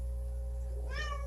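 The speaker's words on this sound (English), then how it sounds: "Sorry about the noise, my cat's being ungodly annoying." A pet cat meows once, a clear rising-and-falling call in a room with a steady hum from a running fish tank setup.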